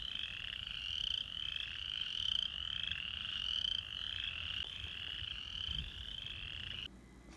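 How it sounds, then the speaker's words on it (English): Frogs croak in a dense, continuous chorus at night in rural pasture country, steady and moderately loud from a short distance, with no voices, before the sound drops off near the end. "The frogs are happy."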